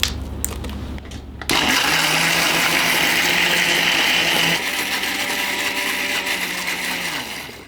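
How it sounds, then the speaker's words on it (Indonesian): A blender blending chili peppers and garlic whirs loudly and steadily for several seconds after a brief start-up clatter, its motor pitch shifting slightly midway before winding down. "Sekarang kita mau blender, ada cabai rawit, cabai merah keriting, dan bawang putih."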